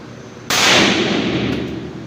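An RFC Molino air rifle fires a single loud, sharp blast that cuts in abruptly and leaves a long, bright rush of noise trailing off, close and dominant over a quiet background.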